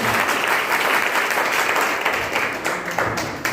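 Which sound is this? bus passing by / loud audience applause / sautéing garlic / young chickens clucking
loud audience applause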